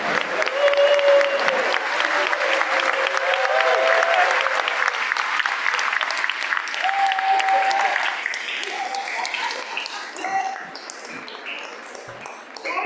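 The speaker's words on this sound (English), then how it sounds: "So if the grandparents would stand up and then sort of put your eyes towards your child and give a round of applause." Grandparents and families in a school Thanksgiving program audience give a long, full round of applause that holds steady and then tapers off, with a sustained ringing tone and some voices heard through it.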